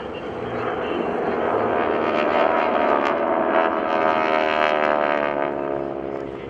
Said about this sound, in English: two aircraft are dispatched to assess the damage